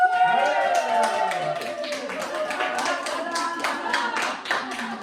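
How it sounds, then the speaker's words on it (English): Wedding guests cheer and clap for the newly announced husband and wife, a dense burst of applause with whoops and shouts that stays lively throughout and fades slightly toward the end. "I'd like to hear a really large, rip-roaring cheer"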